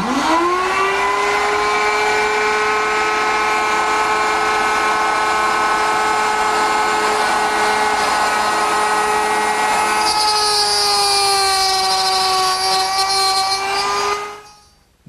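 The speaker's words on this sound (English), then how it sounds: "plunge the piece over the router bit" A wood router runs at a high steady whine for a long stretch while a workpiece is plunged over the bit to cut grooves. The pitch shifts slightly partway through, and the sound cuts off at the end.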